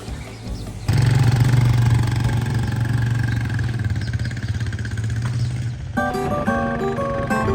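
Motorcycle engines rumble at idle nearby in a queue for a ferry on Lake Malawi, a low steady throb that swells after a second and holds, with a brief shift in tone near the end.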